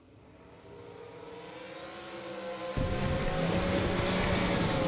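Supercharged drag racing car launching down the strip at an SFG Christmas Bracket Bash, engine roar building from a distant rumble to a sudden loud surge as it leaves the line, then holding a heavy sustained blast.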